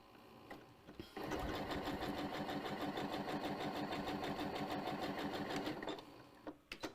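A home sewing machine stitches coiled rope into a bowl, giving a close, steady, rapid mechanical whir and clatter that runs for about five seconds before stopping.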